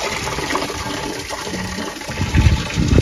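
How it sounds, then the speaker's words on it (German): Water gushing steadily from a spring in Greece into a watering can, a loud continuous rushing splash close by, with no talk. "Hier holen wir jetzt Wasser. Das ist einfach eine Wasserquelle in Griechenland"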